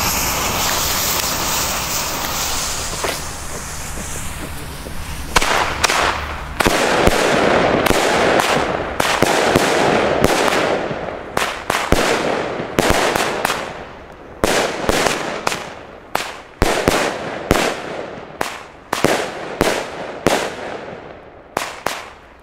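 Argento Blue Thunder fireworks, three fired together as a set: a rushing hiss of launches builds, then a long rapid barrage of loud, sharp bangs crackles on for many seconds with no talking.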